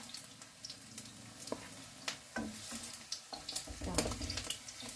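Food frying in cooking oil in a pan, a steady sizzle with scattered sharper crackles and pops, close and moderately loud, with occasional stirring clinks and no talking.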